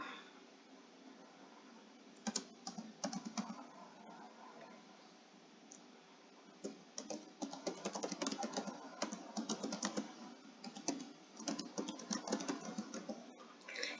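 Text is typed on a computer keyboard during graphic design work: bursts of close, fast key clicks in uneven runs, with pauses between them over a steady faint hiss.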